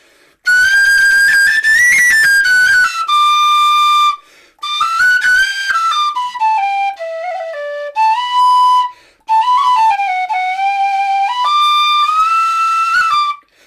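A Weston tin whistle plays loudly in its upper register, shrill sustained notes and quick runs in several long phrases separated by short breaths, close and solo.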